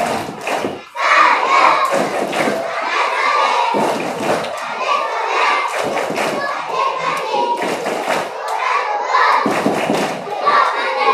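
Group of children clapping hands in quick, irregular bursts alongside excited kids' voices and shouting at a young Quran memorisers' gathering, with steady chatter throughout.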